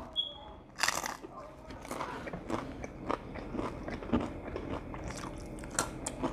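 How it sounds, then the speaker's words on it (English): Close-up mukbang chewing of carne con chile: wet crunching bites, smacking and mouth clicks in an irregular rhythm, loud and near, with a few soft breaths between chews. "So I thought I would give you guys a little carne con chile mukbang."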